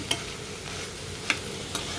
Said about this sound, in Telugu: పచ్చడి తాలింపు వేసుకుందాము మనం